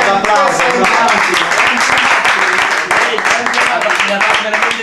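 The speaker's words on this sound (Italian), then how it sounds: "Un applauso, grazie" Party audience clapping loudly and densely throughout, close and continuous, with voices mixed in over the applause.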